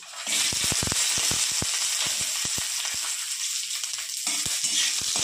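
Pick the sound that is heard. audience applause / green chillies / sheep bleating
green chillies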